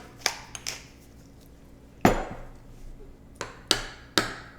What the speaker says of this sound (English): Now we're gonna add some fresh cracked pepper.